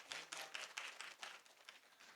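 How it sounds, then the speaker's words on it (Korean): A lecture hall audience gives a faint, steady round of applause after a guest lecture. The clapping is distant, dense and sustained for a couple of seconds. "박수 부탁드립니다."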